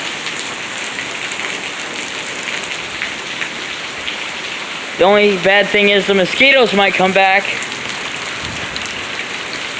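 Heavy rain pouring down steadily during a thunderstorm, loud and continuous throughout, with someone speaking briefly over it in the middle.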